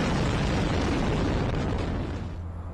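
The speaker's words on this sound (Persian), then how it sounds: "لبنان هنوز در شوک این انفجار در بندر بیروت است" Massive blast at the port of Beirut, heard as a loud, sustained roaring rumble that fills the whole clip and only begins to fade toward the end.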